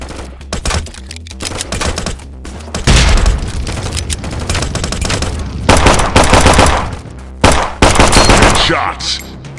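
Heavy rapid gunfire from the mobile shooter Killstreak.tv, loud, close bursts of automatic shots with booming hits, pausing briefly before resuming in dense volleys.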